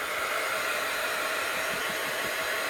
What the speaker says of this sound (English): Heat gun alert, there's still a few wet spots in here.